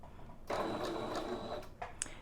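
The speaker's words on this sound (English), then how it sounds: "I'm going to do first a forward stitch, then a back stitch, so you can lock that stitch" Sewing machine stitching through tutu fabric, running a forward stitch then reversing to lock it; a close, steady mechanical whir with a brief pause and short bursts near the end, no talk.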